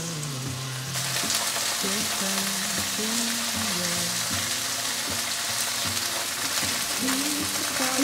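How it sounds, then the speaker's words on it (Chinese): Flipped bean buns fry golden on their second side in an oiled pan, a steady crackling sizzle that swells slightly after the first second and carries on evenly, with light background music underneath. "另一面再让它煎成金黄色"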